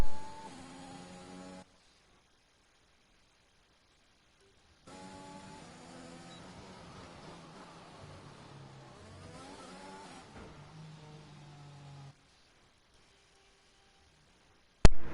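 A Formula 1 car engine in F1 2021 whines and revs in fairly quiet stretches, cutting out to near silence twice for several seconds before returning.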